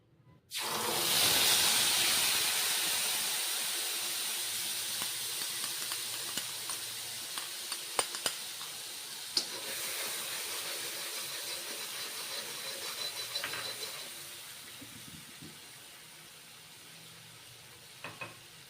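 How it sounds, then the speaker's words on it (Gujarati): Spices dropped into hot oil for tempering potatoes, a sudden loud sizzle that settles into a steady hiss with occasional spoon clinks, no talking. "તેલ આપણું ગરમ થઈ ગયું છે એમાં આપણે મસાલો એડ કરી દઈશું"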